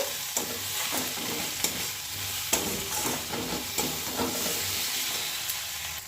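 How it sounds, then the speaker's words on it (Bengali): Spice masala with a little ground coriander being stir-fried for chicken curry, made with very little oil, sizzling steadily with repeated scraping strokes of a spoon across the pan. "এবার মশলাটা খুব ভালোভাবে আমি কষিয়ে নেব"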